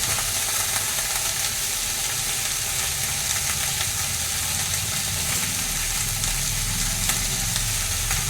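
Vegetables for a fish sour curry frying in a little oil in a pan, a dense, continuous sizzle at an even level throughout, close and alone.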